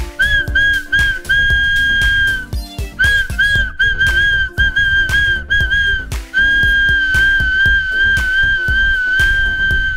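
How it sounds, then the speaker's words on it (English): A plastic toy whistle from a 2017 McDonald's Yo-Kai Watch Happy Meal toy, blown repeatedly, its shrill warbling tone wavering in pitch, with short breaks between blasts and some clattering underneath. "this toy is actually a whistle as well"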